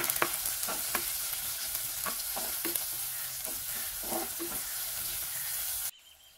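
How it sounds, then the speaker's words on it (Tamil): Fenugreek, garlic and half a large onion sautéing in oil, with steady broadband sizzle and repeated utensil stirring scrapes throughout, cutting off abruptly near the end. "இது எல்லாத்தையுமே சேர்த்து விட்டுட்டு நல்லா ஒரு தடவை வதக்கி விட்டுக்கொள்ளலாம்"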